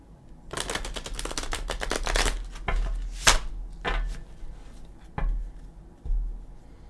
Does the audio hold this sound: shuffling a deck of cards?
yes